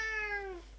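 A single drawn-out meow from Ollie the cat, clear and close, sliding gently downward in pitch before fading out, with no talking.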